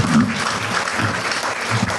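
Applause from a temple festival crowd at Sri Varasiththi Vinaayagar in Canada, honouring the auspicious-music players: a dense, loud, continuous wash of many hands clapping close by, steady throughout.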